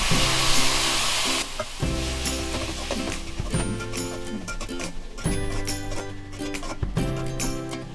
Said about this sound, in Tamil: இஞ்சி பூண்டு வெங்காயம் எல்லாம் நல்லா வதங்கிருச்சு. இப்போது கட் பண்ணி வச்சுருக்க தக்காளியை சேர்த்துக்கிறேன்